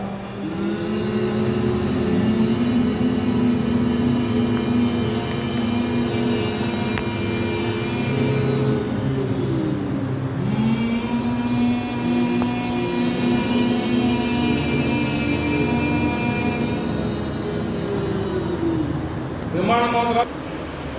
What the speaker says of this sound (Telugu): విమానం